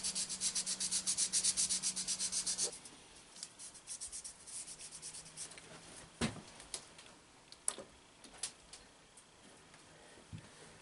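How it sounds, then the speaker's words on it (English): Sandpaper scrubs a part of a Chevy car starter motor during a rebuild: a quick run of close rhythmic rasping strokes, then softer scattered rubbing broken by a few sharp ticks and knocks. "take the sandpaper, a little bit of sandpaper, and clean this off a bit all around, and it'll make better contact"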